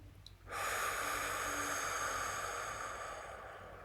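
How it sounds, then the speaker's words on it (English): A long, slow breath drawn in through the nose and let out during a guided breathing exercise, heard up close as a steady airy rush that begins after half a second and fades gradually, with no talking. "Take a deep breath in through your nose, hold it for a moment, and exhale slowly through your mouth."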